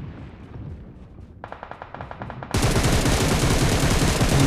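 Gunfire in a mobile battle royale shooter: a distant rattle of automatic shots gives way to a much louder, dense stream of rapid fire close by.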